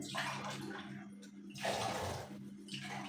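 Water is poured from a glass into a jug that already holds sugar for a falsa sharbat, a faint splashing rush in two or three pours with brief pauses between them.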